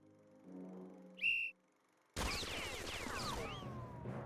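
A single sharp whistle blast in the Ciconia When They Cry game rises out of a quiet background, then gives way to a loud burst of gunfire and battle noise.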